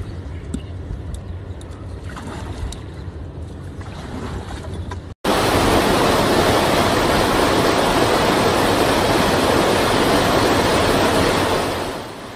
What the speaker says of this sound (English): Rain falls in sheets, turning streets into rivers and fields into lakes in mere hours.